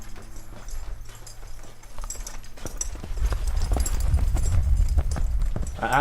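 A horse's hooves clip-clop at a steady walking rhythm during a riding lesson, growing louder and closer partway through, with faint background sounds.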